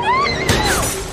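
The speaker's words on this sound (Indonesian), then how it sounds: "Si Cuko mengejar dan memecahkan kaca depan mobil." A car windshield is smashed with one sharp, loud burst of breaking glass midway through, followed by a bright tinkling decay.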